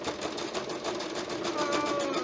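A sewing machine stitches binding onto a quilt with a steady, fast mechanical whir, continuous and close for a couple of seconds.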